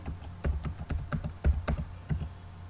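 A computer keyboard typed in a short run of crisp, evenly spaced key clicks, close and clear with no talking.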